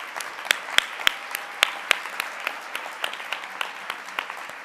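Crowd at the NYWICI 2017 Matrix Awards in a Sheraton Times Square ballroom breaks into applause, a dense patter of many hands with some crisp nearby claps poking through, fairly loud and sustained, no speech.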